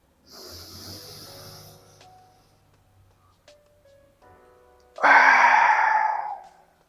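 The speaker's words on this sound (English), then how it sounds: "When you're breathing, try to breathe through your nose." A person breathes through the nose during a breathing exercise, with a soft drawn-out inhale followed later by a louder, hissing breath of about two seconds, close and alone with no talking.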